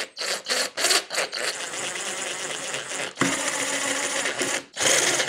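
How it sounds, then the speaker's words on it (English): An impact driver tightens bolts on a Varla Eagle One V2.0 electric scooter: short whirring bursts, then a long sustained run of buzzing rattle with a brief pause and a final burst, loud and close, with no voices. "I'm gonna cheat a little bit and use an impact, a nice little setting just to speed up the process."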